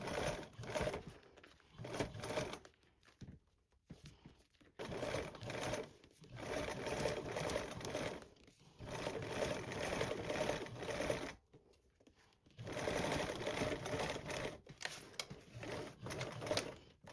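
Sewing machine top stitching a 1/8 inch seam: a steady, fast mechanical whirr running in several long bursts separated by brief pauses, close and moderately loud, with no speech.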